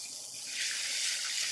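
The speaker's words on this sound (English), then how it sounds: "you hear the sizzle" Asparagus and peas about to go into a hot pan where vegetables are sizzling and caramelizing, a steady close hiss that swells slightly and holds, with no talk over it.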